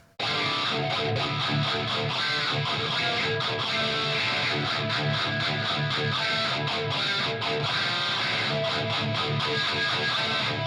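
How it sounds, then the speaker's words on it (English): Dense, steady distorted electric guitar through the auto wah of the Audio Assault Dominator amp simulator plugin, a sweeping, filtered wah coloring that pulses continuously throughout, loud and unaccompanied by speech. "the auto wah, which I'll just toss this on right now so you can hear what it sounds like"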